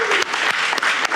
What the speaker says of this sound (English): Not sure why they're clapping.